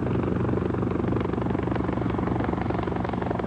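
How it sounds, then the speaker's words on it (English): A military helicopter used by Norwegian special forces for troop insertion flies close and loud, its rotor beating in a steady rapid chop over a continuous engine roar with no pause. "Jaegers utilize helicopters as ideal insertion aircrafts."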